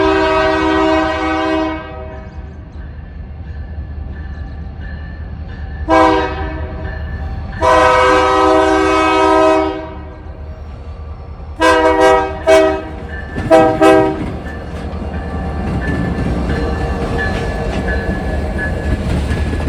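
Norfolk Southern freight train passing near a rail yard: a loud horn sounds in long and short blasts, ending in a quick series of short toots, over the rumble of the train rolling by.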